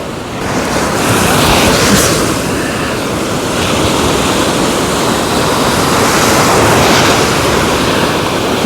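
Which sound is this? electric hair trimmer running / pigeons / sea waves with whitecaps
sea waves with whitecaps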